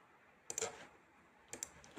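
A computer mouse clicks twice, a right-click and then a menu selection to cut a file, giving two short, faint, close clicks about a second apart over a quiet room hiss.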